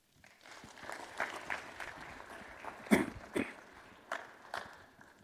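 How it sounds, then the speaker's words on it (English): A small audience at a university math day event claps to welcome a speaker, fairly faint and sparse applause with a few louder individual claps scattered through it. "No one's ever clapped for me before when I got ready to talk for math"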